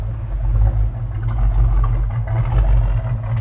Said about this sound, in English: Little cam putting that crate Hemi engine. Nice little rumble to it.